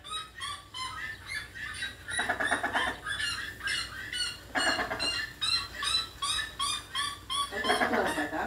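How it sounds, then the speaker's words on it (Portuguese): Guinea fowl calling among chickens, ducks and turkeys in a farmyard, with repeated rhythmic squawking bursts rising and falling in loud waves over a continuous background of bird chatter. "E os capotes cantando lá no fundo"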